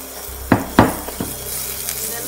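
Several ginger slices hit a hot wok for Sichuan five spice chicken, giving a few sharp bursts of sizzle and scraping stirs over a steady low frying hiss.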